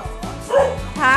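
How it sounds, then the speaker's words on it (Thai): A dog barks in welcome at home, two short, close, loud yipping barks in quick succession. "เห่าต้อนรับ"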